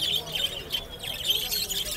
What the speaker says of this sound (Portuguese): Periquito, ó.